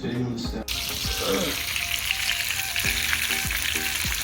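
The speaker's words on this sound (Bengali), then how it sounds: "এবার ভাজাও হচ্ছে" Fish frying in oil at home, a steady close sizzle with intermittent clinks and a brief water-like splash, with a voice murmuring in the background.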